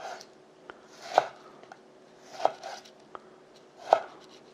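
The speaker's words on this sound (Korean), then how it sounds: "썰어 보겠습니다." A knife chops squid cut into 4–5 cm pieces on a cutting board, three distinct sharp chops with a few lighter taps between, close and clear with no talking.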